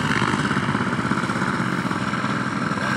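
Paramotor engine running steadily during launch training in open air, a loud continuous buzzing drone with a gritty mechanical rattle, close and sustained throughout without talk.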